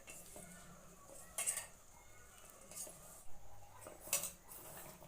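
Chopped large onion and chilli being stirred into gram flour bonda batter, a soft wet mixing with a few clinks of spoon against bowl, fairly quiet and close.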